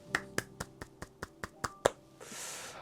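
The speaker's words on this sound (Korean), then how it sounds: "이건 박수 한번 필요할 것 같아요." One person claps eight or so times in a steady, fairly quick rhythm, each sharp, close smack ringing out clearly in a quiet room, with a short hiss of breath or rustle after the last clap.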